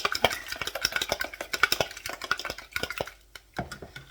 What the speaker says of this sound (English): I'm just going to whisk the eggs.